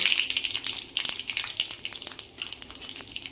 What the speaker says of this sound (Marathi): आता इथे आपलं तेल गरम झालेलं आहे तर याच्यामध्ये मी टाकत आहे आता एक चमचा मोहरी मोहरी चांगली अशी कडकडू द्यायची